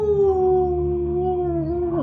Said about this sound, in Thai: ใช่แล้วเห่าเห่าอีก